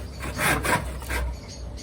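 Rough rasping strokes of a hand saw through old, partly rotted wood, two or three back-and-forth pulls, close and fairly loud.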